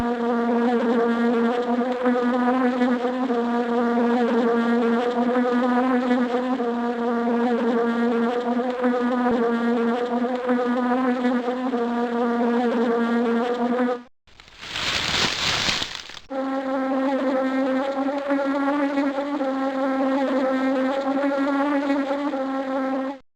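Honeybees buzzing in the Microsoft Explorapedia nature game, a steady loud drone with strong harmonics that runs almost without a break, cut only by a short bright hiss near the middle.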